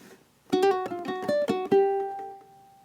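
A ukulele plays a short gypsy jazz waltz phrase, opening with a quick triplet and then plucked notes ringing clearly before the last note fades out, heard alone.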